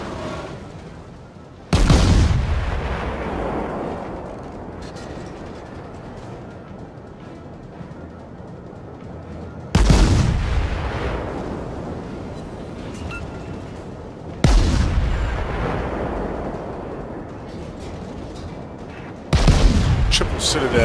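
Naval artillery from the Tier II VMF Novik cruiser in the video game World of Warships: four loud, booming salvos spaced several seconds apart, each trailing off into a rumbling decay.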